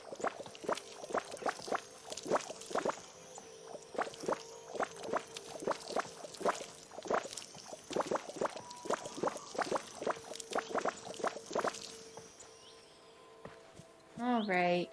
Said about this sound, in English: Go ahead and water these.